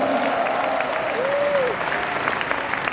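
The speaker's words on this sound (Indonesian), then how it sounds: "Give Jesus a mighty shout of praise." A church congregation applauds and cheers in praise of Jesus, a dense, sustained wash of clapping from a large crowd with a voice rising briefly above it.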